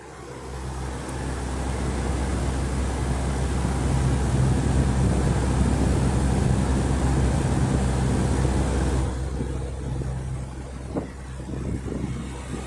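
A 1960s Wizard reversible box fan runs outside a window, a steady loud broadband whoosh with low motor hum that thins out noticeably near the end.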